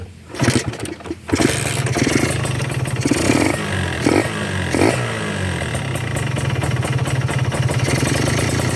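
A cold, not yet warmed-up two-stroke motorcycle engine starts and runs with a loud, raspy, buzzing idle close by, its revs surging a few times before settling into a steady crackling drone.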